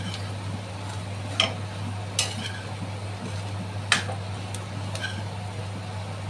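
Jackfruit vegetable is stirred and sautéed with masala in a pan, producing a quiet, steady cooking hiss with occasional sharp scrapes and clinks of the spoon against the pan, over a constant low hum.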